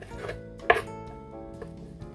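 A knife chops ingredients for Thai tom kha gai soup on a board, with one sharp, prominent cut followed by a few softer, quieter cuts.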